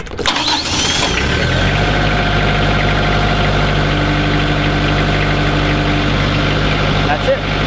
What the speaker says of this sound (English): So to start the tractor, that needs to be in neutral. Give it a little more throttle.